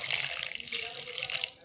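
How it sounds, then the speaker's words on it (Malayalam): Water pours into a pot of peeled mangoes being cooked with salt and turmeric, a brief close splashing hiss. "കുറച്ച് വെള്ളം ഒഴിച്ച് കൊടുത്താൽ മതി."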